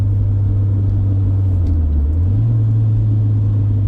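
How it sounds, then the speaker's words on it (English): A stock first-generation Honda CR-V with a Yonaka catback exhaust downshifts into fourth, a steady low, loud rumble whose pitch dips and then rises again as the revs change. "Alright, so downshifting into fourth."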